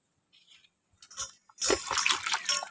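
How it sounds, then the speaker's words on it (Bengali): Chopped pointed gourd (potol) being rinsed in a bowl of water, with a few soft sloshes early on, then a longer stretch of close, continuous splashing and trickling as the pieces are washed by hand. "পটলটাকে একটু ভালো করে ধুয়ে নিতে হবে।"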